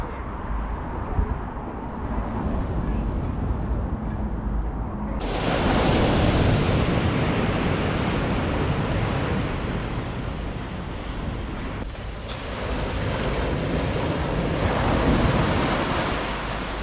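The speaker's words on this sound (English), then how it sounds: "It's a hard sound to beat, that, the crashing of the waves." Ocean waves crash and roll in a continuous broad roar at Kirkcaldy, surging louder midway with gusty wind noise over the microphone and no voices.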